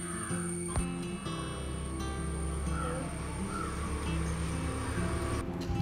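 A crow caws close by in repeated harsh calls over a busy, humming background.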